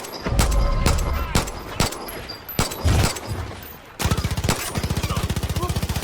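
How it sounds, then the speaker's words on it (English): Gunshots fired at a red barrel in the video game Kraken Refuge: a series of sharp, loud single shots at an uneven pace, followed by a fast, steady machine-gun-like burst. "If I can shoot the red barrel."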